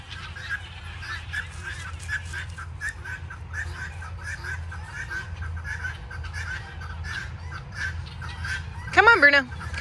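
Scattered honks and squawks from a small group of geese, moderately near, with a person talking over them and a sharper, louder call near the end.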